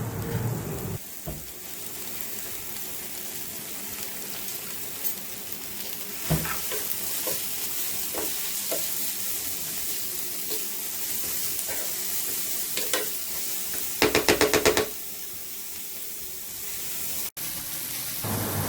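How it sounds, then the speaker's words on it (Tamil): Onions, dried chilies and salt stir-fry in a pan for a water spinach dish, giving a continuous sizzling hiss broken by repeated scrapes and sharp clacks of a spatula against the pan, with a brief rattling burst near the end. "இப்போ வெங்காயமும் செத்த மிளகாயும் போட்டு கொஞ்சம் உப்பும் போட்டு நல்லா மிக்ஸ் பண்ணி விடணும்."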